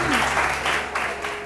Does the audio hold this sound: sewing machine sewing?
no